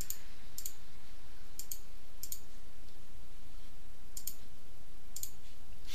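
A computer mouse clicks sharply and close while photos are selected, with single and paired clicks spaced irregularly over a faint background hiss.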